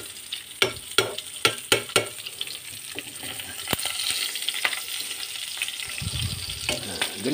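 Meat frying in its own rendered fat for a simple home-style adobo, a steady sizzle punctuated by a quick run of sharp utensil clacks early on, then a continuous crackle with a low bubbling swell near the end.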